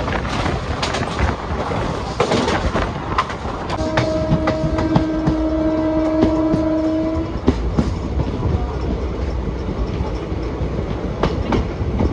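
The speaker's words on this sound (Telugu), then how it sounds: "ఎదురుకుండా ఏదో ట్రైన్ వస్తున్నట్టుంది, చూద్దాం ఏ ట్రైన్" An oncoming train rumbles past close by, heard from aboard the Tungabhadra Express, with a steady clatter of wagons, and a long two-tone horn sounds midway before the rolling noise continues.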